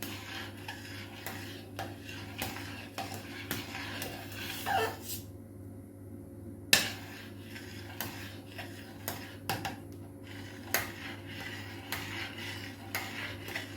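A thick Jaffna dodol mixture with roasted rice flour is stirred in a pot, giving repeated close clacks and scrapes of a spoon against the pot in an uneven rhythm, with no talk.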